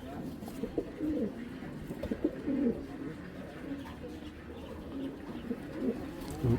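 Racing pigeons coo repeatedly at close range, a soft stream of low, throaty calls that carry on steadily without pause.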